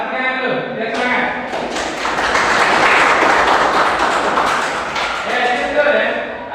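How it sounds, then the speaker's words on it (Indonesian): Students in a classroom break into applause during a history lesson, the clapping swelling from scattered claps to a loud, full burst in the middle before tapering, close and lively. "Tepuk tangan dulu, biar semangat."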